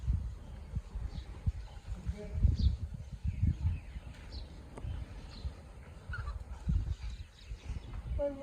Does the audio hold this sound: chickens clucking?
yes